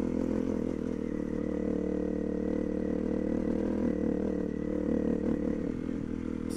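A Honda CRF250L dirt bike rides slowly uphill on a dirt road, its steady low engine drone running close and continuous throughout with light clatter and no speech.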